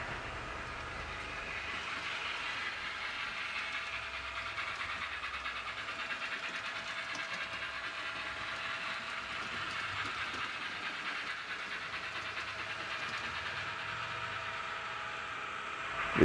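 An HO scale model Southern Pacific train runs along a layout beside a modeled Alameda Creek, giving a steady, even rolling hum with faint rail clicks, continuous and unbroken for the whole stretch.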